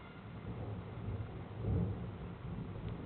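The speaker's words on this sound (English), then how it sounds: "I just heard a bit of thunder." Deep, muffled thunder rumbles through the space-exploration video game Space Agency, a steady low roll that swells briefly near the middle before settling back, with no voices.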